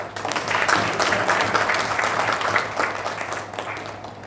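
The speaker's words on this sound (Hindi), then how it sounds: "आपके स्वागत के लिए बात जोरदार ताली बजाएं।" An audience at a university ceremony on the Amity University Lucknow campus applauds, a dense, steady round of many hands clapping that holds for several seconds before starting to fade.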